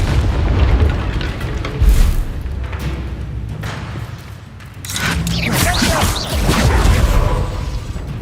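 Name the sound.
Bombarda and Confringo explosion spells in video game Hogwarts Legacy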